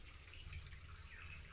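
Tap water running steadily to fill a tank, a continuous soft hissing rush with a low rumble underneath, even in level throughout and heard alone.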